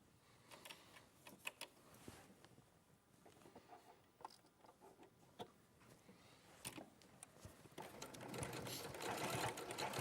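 A domestic sewing machine stitches fabric in short, uneven bursts, faint and close, with light clicks and handling noises between runs and a louder stretch of stitching toward the end.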